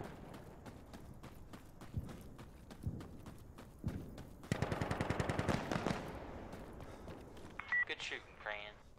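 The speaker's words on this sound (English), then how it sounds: "Good shooting, Crayon." Video game gunfire: several single shots, then a rapid burst of automatic fire, mixed with game sound effects and a short stretch of electronic tones near the end.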